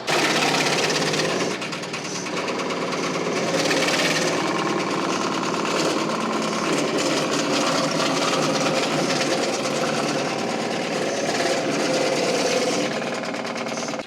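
A wood chipper with freshly turned blades runs loud and close, a continuous dense engine roar with rattling, grinding chatter from wood being chipped, with no talking.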